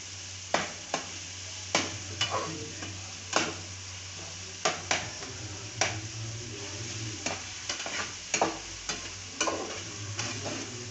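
Masala spices roast in a pan for crispy okra (bhindi), and a spoon scrapes and taps at steady intervals over a faint, continuous sizzle.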